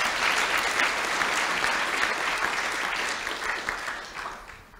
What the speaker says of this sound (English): Please give him a round of applause for those two panels.